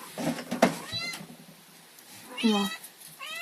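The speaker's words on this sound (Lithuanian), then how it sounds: "čia mano katėtė" A domestic cat meows several times, a couple of drawn-out, rising calls plus a shorter one, fairly close and clear, with a person speaking briefly in between.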